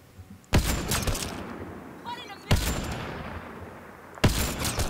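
Gunfire in the video game Mass Effect Andromeda cracks out in three sharp, loud bursts about two seconds apart, each trailing into a rumbling decay, with a faint voice between shots.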